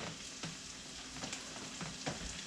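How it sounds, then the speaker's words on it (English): Bacon sautés in a pan with a steady, close sizzle and occasional sharp pops and crackles breaking through. "I have put the bacon in. It has been sauteing for a little while"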